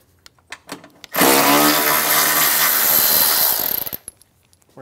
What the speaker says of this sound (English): Using a 13mm socket, we're going to remove the 2 bolts off the side of the bottom of the air housing.